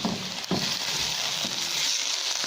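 Mustard greens sizzle and fry in a pan while being stirred, a steady dense hiss with a few soft scraping stirs, close and fairly loud with no voices.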